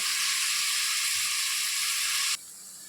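Onions fry to golden in hot oil for tomato rice, giving a steady, bright, hissing sizzle that stops abruptly near the end.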